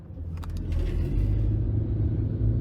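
A 2023 Ford Maverick Hybrid XL pickup accelerates in sport mode, heard from inside the cabin as a low engine rumble that swells and holds steady for a couple of seconds.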